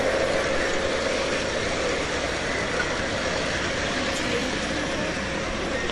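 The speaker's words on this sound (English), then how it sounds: "here's another look at a train coming down the track" A garden railroad model train runs along an outdoor track at Sun City Grand in Surprise, Arizona, making a steady, loud, continuous rolling rumble and whir that holds at a constant level throughout.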